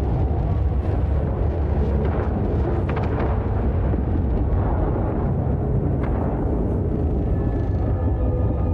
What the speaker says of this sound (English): After 24 hours, the Titan explodes.